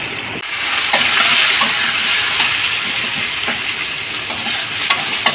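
Yam dhoka pieces frying in hot oil in a home kitchen, a steady loud sizzle with occasional crackles and stirring clicks throughout, no voices.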